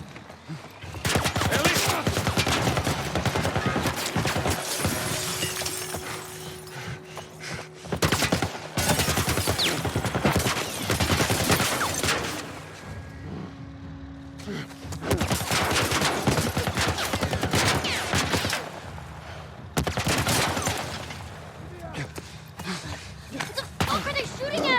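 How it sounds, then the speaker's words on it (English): Military turret gunfire in The Last of Us, loud, dense bursts of rapid automatic shots that come in long volleys with brief pauses between them, while a voice talks over parts of the barrage. "Some kind of military turret."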